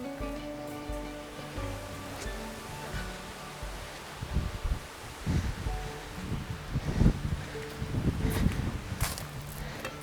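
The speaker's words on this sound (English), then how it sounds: "The weather's changed, it's got really windy" Gusty wind roars and rushes, building louder in bursts toward the end, with buffeting noise against the microphone and a faint tonal hum underneath.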